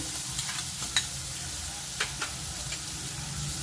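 A yam and paneer fasting curry with fried potatoes is stirred in a pan, steady loud sizzling with a few light spoon scrapes and taps on top, no voices.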